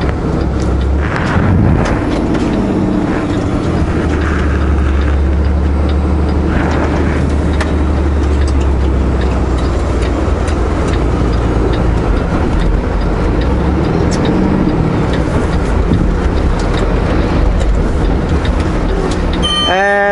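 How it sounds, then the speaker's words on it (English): A truck slipping and spinning on a snowy road, a loud continuous engine rumble and rolling drone throughout, with a rising whine near the end. "I'm slipping here. I might spin out."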